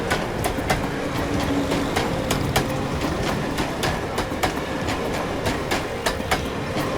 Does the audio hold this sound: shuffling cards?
no